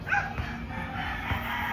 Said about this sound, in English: this is our pet dog Whitey, 4 years old.